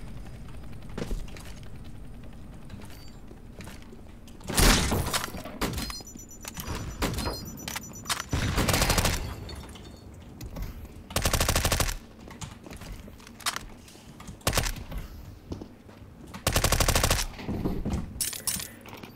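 Bursts of automatic rifle fire crack out in Counter-Strike: Global Offensive on a new Forbidden Zone map, each spray loud and close, with quieter footsteps and equipment clatter in the gaps between them.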